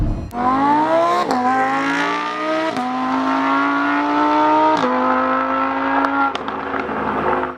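A Lamborghini Huracan's V10 revs hard through several rising pulls, each climbing in pitch before a sharp drop at the shift, loud, close and continuous with no talk over it.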